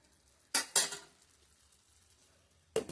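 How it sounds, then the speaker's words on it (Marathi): A lid clanks twice onto a pan of cowpea leaves cooking, two sharp close metallic knocks in quick succession over a faint sizzle, with another knock at the end. "आता मी पुन्हा झाकण मारून ठेवते"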